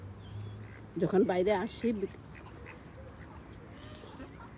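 Ducks released on a summer lake in London give a short burst of honking quacks for about a second, close by, while someone speaks softly before and after amid quiet outdoor ambience.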